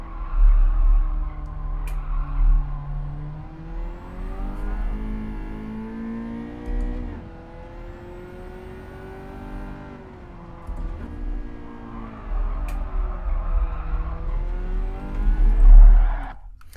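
Ford Sierra RS Cosworth racing in Gran Turismo 7, its engine revving up and down through gear shifts with rising and falling pitch, loud and continuous with no talk.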